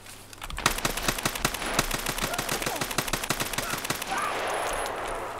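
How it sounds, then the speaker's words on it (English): Rapid automatic gunfire in Escape From Tarkov during a solo overnight rainstorm raid: a long, fast string of sharp shots rattling out close and loud, fading into steady rain hiss near the end. "I shot like 100 times at this guy."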